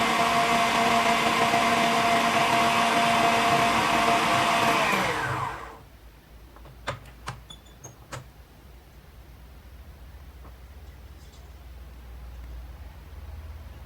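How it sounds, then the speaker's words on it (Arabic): An electric hand mixer whips eggs for a rolled sponge cake, making a loud, steady motorized whir for about five seconds. It then cuts off, and a few faint clinks and quiet room noise follow. "غادي نخلط جيدا حتى كيضاعف الحجم ديالو كيف ما كتشوفوا. غادي نضرب تقريبا شي 10 ديال الدقائق بحال هكا صافي"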